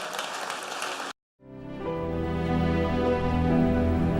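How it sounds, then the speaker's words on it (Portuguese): A church congregation claps for about a second, a dense burst that cuts to brief silence before sustained, swelling musical tones take over. "aplauda ao Senhor Jesus"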